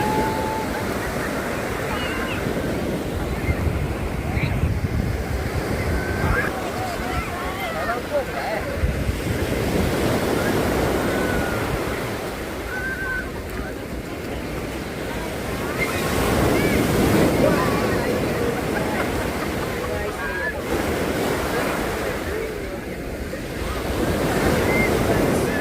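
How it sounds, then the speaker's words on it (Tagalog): Surf rolling onto Shek O beach in Hong Kong, a continuous wash of breaking waves with heavy wind buffeting the microphone, swelling and easing in broad surges over nearly half a minute. "Super ganda ng beach dito"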